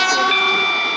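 A train in the game Stepford County Railway, approaching Benton Bridge, gives a brief, steady electric whine with layered tones, loud and close.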